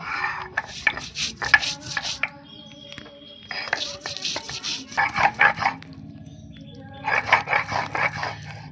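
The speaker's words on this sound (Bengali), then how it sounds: "এই যে দু টুকরো আদা দেবো এরকম বেটে নেব" Ginger and cumin are ground into a paste by hand at a home kitchen. Close, rhythmic scraping comes in three bursts separated by short quiet pauses.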